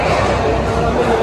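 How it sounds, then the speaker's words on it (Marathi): Crowd hubbub at Wetnjoy water park in Lonavala, a dense steady murmur of many voices and chatter, close and continuous over a brief stretch. "सगळीकडे गर्दीच गर्दी."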